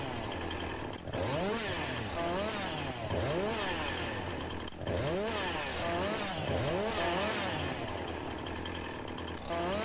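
A chainsaw cutting into a branchy tree on a farm, its engine revving up and down in repeated loud surges with brief dips, steady and close throughout.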